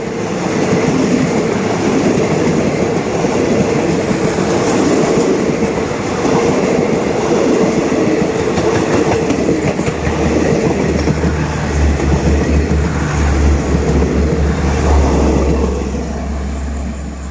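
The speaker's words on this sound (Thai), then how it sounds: "มาครับมาชมรถเร็วหนึ่งเจ็ดหนึ่งนะครับ" Rapid train 171 on the Bangkok–Sungai Kolok line roars past Ban Khu Bua under rain clouds, a loud, steady rumble of engine and wheels with rhythmic clacking and a deep low drone building midway before fading slightly.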